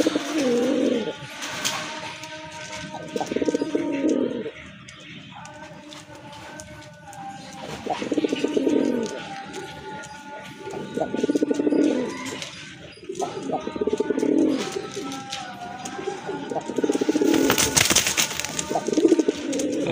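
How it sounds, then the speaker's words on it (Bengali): Madrasi pigeons at a pigeon collection coo in low, repeated phrases, several birds layered together throughout, with short pauses between bursts and a sharp wing-flap or rustle near the end. "এটাও কিন্তু আপনার মাদ্রাজি কবুতর, এটা হচ্ছে মাদ্রাজি গোল্লার ভিতরে দ্বিতীয় পেয়ার।"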